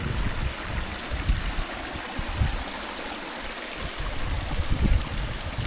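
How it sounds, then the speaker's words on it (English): Fresh water stream rushing steadily outdoors in the mountains between Colorado and California, a dense, continuous broadband wash with bubbling surges, fairly loud and close, no voices. "I love seeing fresh water."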